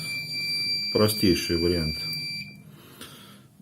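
Piercing high-pitched buzzer of a simple 433 MHz wireless door alarm sounds steadily, cutting off partway through, while someone speaks over it nearby.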